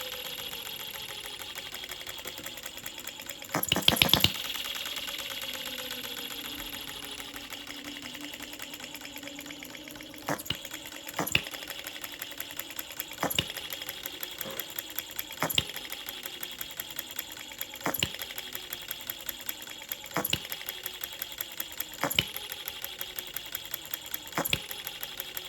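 A StirlingKit B02 OKMO hit-and-miss model engine runs with a fast mechanical clatter, punctuated by sharp firing knocks roughly every couple of seconds, close and alone.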